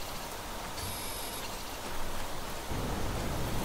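Steady rain hissing in the video game Planet Crafter, a continuous broadband downpour with a brief high tone early on and a louder, heavier rumble in the last second.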